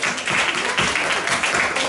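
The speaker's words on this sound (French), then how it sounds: "vous pouvez vous applaudir" Dance class participants applaud themselves at a samba session, a dense, steady patter of hand claps filling the room at close range with no talk over it.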